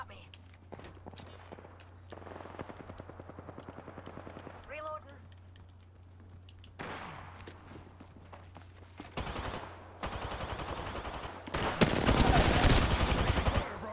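Gunfire in Apex Legends comes in rapid automatic bursts mixed with footsteps, growing loud and dense toward the end, while players talk over it.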